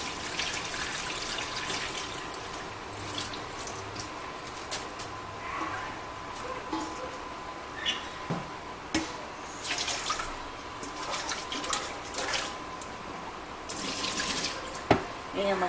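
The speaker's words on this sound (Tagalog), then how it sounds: "pag hinugasan natin siya ng tubig dito sa gripo" Tap water runs and splashes into a sink while fish is rinsed under the stream, with intermittent louder splashes and drips.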